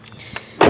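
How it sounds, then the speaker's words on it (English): Car keys jingle briefly as they are pulled from a car's ignition, a short metallic rattle at the end after a quiet moment, close and alone. "So I better take my keys out of here before the car locks."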